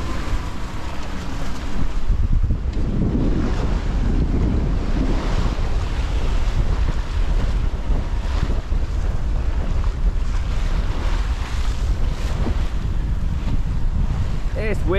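Strong wind roars and buffets the microphone continuously over rough, surging open-ocean water aboard a sailing boat, a loud, steady rumble with no voices.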